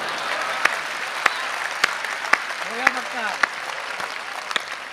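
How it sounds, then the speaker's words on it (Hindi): Applause from the audience at a Hindi kavi sammelan poetry gathering, a steady wash of many hands clapping at moderate distance with scattered louder claps and a brief voice over it, sustained for the whole stretch. "बार बार कहने की क्या जरूरत है कि ताली बजाओ।"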